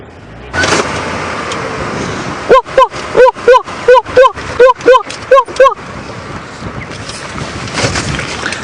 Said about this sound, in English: While I investigate the bleating zebra.